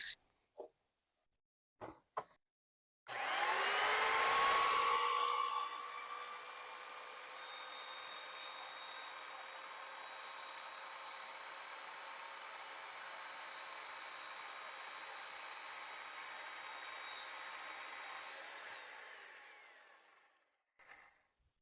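A saw fitted with a Prazi Beam attachment makes a straight cut, a loud grinding burst that settles into a long steady whine, framed by a few short knocks before and after.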